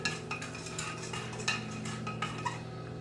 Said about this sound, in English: if you give it a little stir and just make sure that there's no clumps